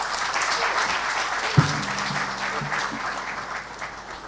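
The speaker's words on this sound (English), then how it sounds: "One more time, ladies and gentlemen, a round of applause" A conference audience at a regional health financing event applauds steadily at moderate level, with a brief thump partway through and a faint voice beneath.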